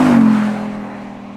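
A 5.2 litre V10 supercar engine, 532 brake horsepower, gives a loud low rumble that eases off after about half a second, leaving a steady hum that slowly fades.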